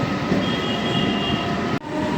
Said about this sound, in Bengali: দীর্ঘ 15 বছর পর কৃষ্ণনগর এবং আমঘাটার মধ্যে প্রথম যাত্রীবাহী ট্রেন চলল